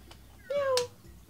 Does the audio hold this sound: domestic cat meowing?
yes